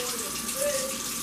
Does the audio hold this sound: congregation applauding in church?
no